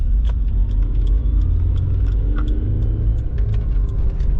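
A 3rd Gen Toyota 4Runner with new rear links, driving and turning corners, gives a steady low road rumble and engine drone with faint rattles and clicks from the cabin throughout.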